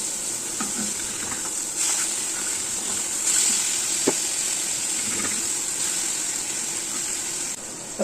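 Salmon fillet frying in a pan after being turned over, giving a steady soft sizzle and hiss with a few faint clicks and stirring touches throughout.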